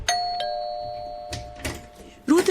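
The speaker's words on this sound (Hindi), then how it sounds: "तभी डोरबेल बजती है" Doorbell in an apartment flat rings with a bright sustained electronic chime tone, followed by a couple of short knocks or thumps, then a brief voice at the end.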